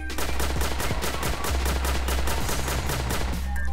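Rapid weapon fire in the sci-fi video game Starward Rogue, a dense stream of evenly spaced shots repeating quickly and loudly over a steady game soundtrack, with no talking.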